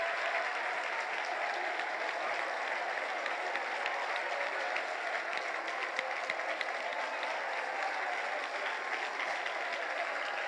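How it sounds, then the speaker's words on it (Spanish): A church congregation claps in loud, dense, sustained applause that runs steadily for the whole stretch, with no break or clear voice standing out. "dele fuerte ese aplauso al Rey de la Gloria"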